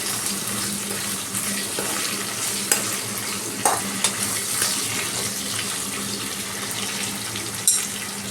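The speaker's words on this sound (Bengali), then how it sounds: "এবার একটু নাড়িয়ে নিচ্ছি এটাকে ভালো করে" Rohu fish in chickpea paste gravy stirred in a pan after salt goes in, a continuous wet bubbling sizzle with occasional spoon knocks against the pan, close and without speech.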